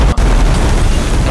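Cannon fire and explosions in the pirate video game Sea of Thieves: a loud, dense booming rumble fills the short moment, with a sharp burst near the start and no talk.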